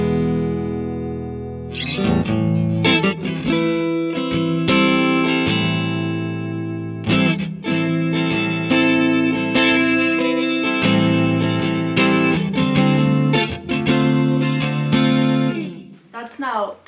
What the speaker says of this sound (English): That's now kind of a reverb.